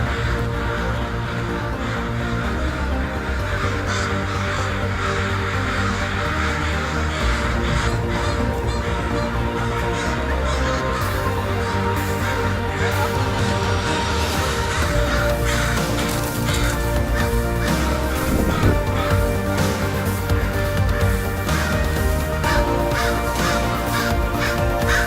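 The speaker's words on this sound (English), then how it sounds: "Yeah, all the birds are wild for some reason." Crows caw over and over in a dense, continuous outdoor chorus of many wild birds, loud and overlapping throughout with no pause.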